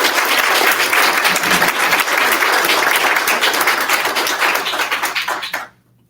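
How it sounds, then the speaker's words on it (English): Audience at a high school National Honor Society induction ceremony applauding the new members, a dense, loud, steady wash of clapping that continues for several seconds, then stops abruptly. "please join me once again in applauding all our new Honor Society members"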